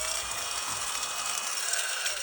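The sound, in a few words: small desk vacuum cleaner with brushes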